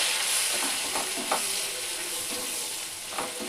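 Tomato for egg chilli frying in a pan hisses in a soft, continuous sizzle, with a few brief clinks and stirring scrapes breaking through, fairly quiet and with no talk.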